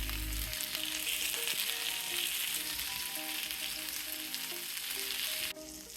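Onions sauté in a pan over medium-low flame, a steady close hiss of frying with faint crackles running unbroken until it drops off abruptly near the end.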